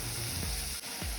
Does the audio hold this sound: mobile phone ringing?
no